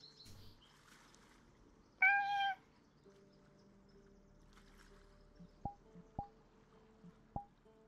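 Cat giving a single clear meow near the middle, alone in a quiet room, with a few faint sharp clicks afterward.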